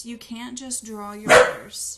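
A dog barks sharply once, loud and close, cutting in over a person talking.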